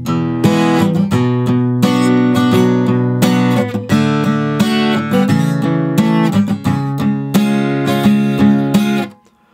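Acoustic guitar in standard tuning playing the intro, a steady strummed chord pattern starting on A, loud and close, ringing alone until it stops near the end.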